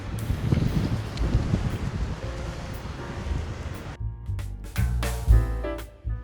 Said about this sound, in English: Very cold and windy today.